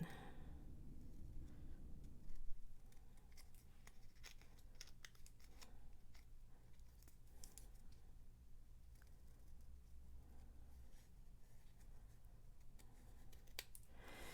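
Scissors snipping through card stock during a card-making class, a quiet run of small clicks and paper cuts over steady low background hum, close and faint with no talking.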